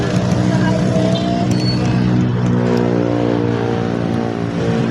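Cars pass along a highway in steady, loud, continuous engine and road noise, with a low droning rumble throughout.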